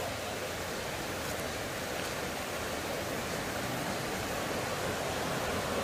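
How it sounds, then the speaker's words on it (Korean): A mountain valley stream near a remote village flows steadily, a close, even rushing wash of water that holds constant throughout with no talk. "바로 앞에 계곡이네."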